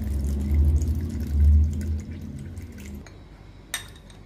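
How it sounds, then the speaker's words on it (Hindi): Half a cup of water poured onto tragacanth gum powder in a kitchen, a couple of seconds of low sloshing pour that trails off into small drips, ending with a faint clink. "हुण इस विच मैं 1/2 कप पानी का पाऊंगी।"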